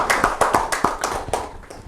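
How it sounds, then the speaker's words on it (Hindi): Loud applause from an audience at a Rajasthan Parishad event, with several sharp, rhythmic claps close together that fade toward the end. "एक बार जोरदार तालियां हो जाए इनके लिए।"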